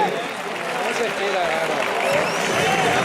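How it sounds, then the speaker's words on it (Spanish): Crowd applause at a toro ratón bull event in Paiporta, a dense, steady wash of clapping and cheering that holds at an even, loud level throughout, with voices mixed into the noise. "un aplauso para el Cabra"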